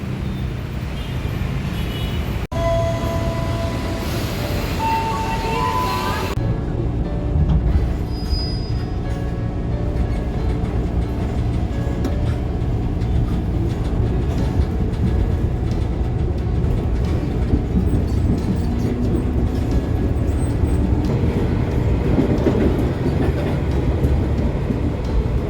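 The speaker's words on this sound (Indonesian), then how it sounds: "Kali ini gue menuju Bogor melalui rel kereta nih" A commuter train rides the rails toward Bogor, heard from on board as a continuous low rumble and rattle lasting the whole time, with a few short tones at the start.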